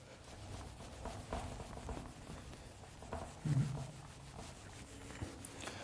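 Chalk or marker writing being erased from a classroom board, a faint scrubbing rub with short, uneven strokes and one slightly louder swipe partway through, with no talk.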